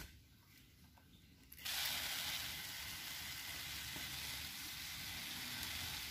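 A pesticide sprayer (Decis insecticide) hisses in a steady, continuous spray onto a caterpillar on a soursop tree, starting abruptly and holding at an even level, close by.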